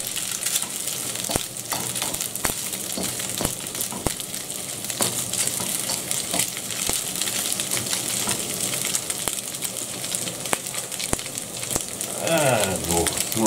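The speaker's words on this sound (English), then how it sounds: "I can already smell the fricadella cooking out here." Frikadeller meatballs fry in a pan with a steady close crackling sizzle and scattered sharp pops, with faint talk in the background.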